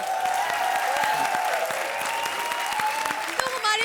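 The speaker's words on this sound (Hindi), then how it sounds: "बजाओ ताली" A studio audience on the Comedy Circus TV show claps steadily throughout, a busy crowd applause with voices talking and calling over it.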